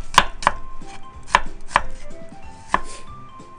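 A knife thinly slices onion on a cutting board, giving a few sharp, close chops in an uneven rhythm against a quiet room.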